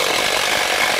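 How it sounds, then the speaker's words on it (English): An impact driver boring into wood with a half-inch Spyder Mach Blue Stinger spade bit set to speed 3, a loud, dense, continuous grinding whir with no break. "So I'll grab my impact driver, put that in, half inch drill bit. This is the new Mach Blue stinger bit from Spyder."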